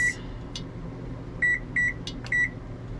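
A kitchen timer beeps in short, high, clear electronic tones, set for 25 minutes while Mexican rice cooks covered on the stove. One beep sounds at the start, then a run of three more follows, close and alone over a faint room hum.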